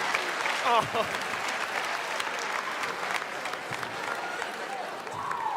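An audience claps steadily for several seconds, a dense sustained wash of applause with a brief exclamation near the start.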